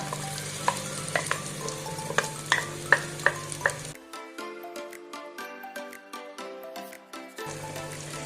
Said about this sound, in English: now we have to fry the masala very well along with the onions and the tomatoes